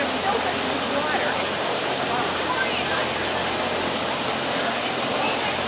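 Water rushes steadily into a canal lock on the Erie Canal as a cruise boat waits inside, a loud constant roar of churning water close by, with people talking over it.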